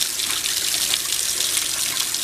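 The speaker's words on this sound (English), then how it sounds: "that's nothing but cold water coming out" Tap water runs steadily into a sink or tank as the cold and hot are mixed to match a fish tank's temperature, a continuous close hiss with no talking.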